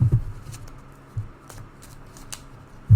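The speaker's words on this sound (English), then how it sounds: "Mr. Bastion, would you like to shuffle your library and cut mine" A Magic: The Gathering card deck being shuffled by hand at a table, soft papery riffles and taps repeating across a few seconds, close and fairly quiet.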